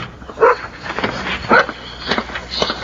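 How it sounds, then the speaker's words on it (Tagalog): A dog barks outside at night in a dramatized horror audio story. Four or five short, sharp barks and yips come in irregular bursts at moderate loudness, with no speech over them. "Oh, tumatahol yung aso sa labas."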